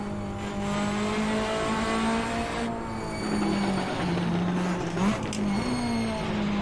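A Citroen Xsara rallycross car on the Jaizkibel hill climb, its engine droning steadily near the microphone with pitch dips and rises as it shifts and revs, a continuous loud mechanical roar without talk.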